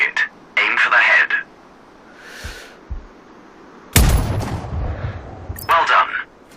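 A single heavy sniper rifle shot fired at a target in Sniper Ghost Warrior Contracts booms out with a long rolling tail, bracketed by a radio-style instructor's voice speaking before and after.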